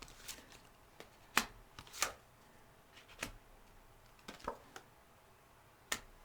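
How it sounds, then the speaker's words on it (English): Tarot cards shuffled and drawn by hand: a series of sharp, close, quiet riffling slaps and flicks at irregular intervals, with no talking. "I'm going to draw a few more cards here because he feels out of place to me."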